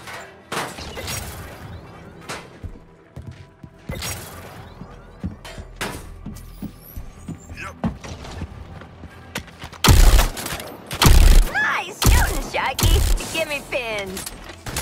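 Heavy gunfire in Suicide Squad: Kill the Justice League, scattered shots giving way to loud, dense bursts and crashing impacts in the second half, mixed with game effects and voices.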